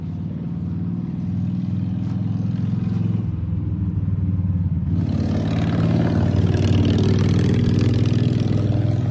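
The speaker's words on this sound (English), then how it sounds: "Sorry about the loud motorcycle going down the road." A motor engine drones steadily, then grows louder and rougher as a motorcycle passes nearby on the road; no talking.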